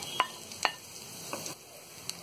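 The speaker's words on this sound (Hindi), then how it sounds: "सब्जियों को हम यहाँ हल्का सा सौटे ही करेंगे, इसे हम ज्यादा नहीं पकाएंगे।" Carrot, cabbage and capsicum lightly sautéing in a pan, a faint sizzle broken by a few sharp spatula scrapes and taps, close but quiet.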